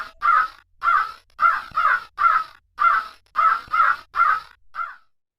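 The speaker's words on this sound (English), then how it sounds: "the crow says," A crow caws about ten times in a steady, evenly spaced series of harsh calls, close and clear, with no voices.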